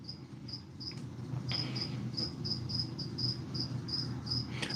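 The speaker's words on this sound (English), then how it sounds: "you can hear these crickets, right?" Crickets chirping steadily in a regular rhythmic pulse, close and clear over a low background hum, with no voices.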